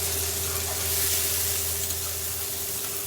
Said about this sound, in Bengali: পেঁয়াজটা আমরা বেশিক্ষণ ভাজবো না, গার্লিক দিয়ে দেবো